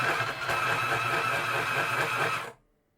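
Electric pencil sharpener grinding a blunt pencil to a fine point, a steady buzzing whir lasting a couple of seconds and then cutting off abruptly into silence.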